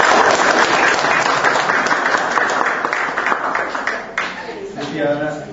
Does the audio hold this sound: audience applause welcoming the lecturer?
yes